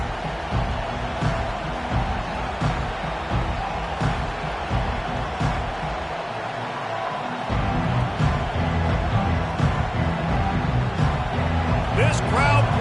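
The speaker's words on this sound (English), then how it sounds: "This crowd bringing the energy and noise early." A video game stadium crowd at an LSU vs Utah college football game roars steadily throughout, a constant wash of cheering and noise with a brief dip midway, while a commentator talks over it.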